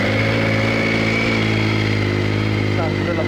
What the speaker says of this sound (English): standard sound with a new GRmoto exhaust